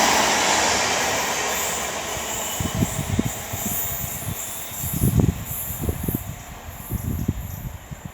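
A train rumbles past at Tamworth, its steady low roar broken by irregular bursts of wheel clatter over the rails, fairly close and loud throughout.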